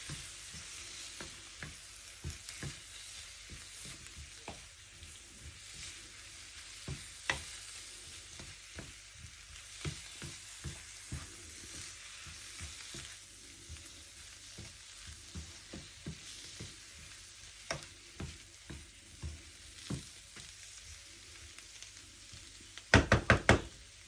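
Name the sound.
stirring prawn and potato curry with spices in pan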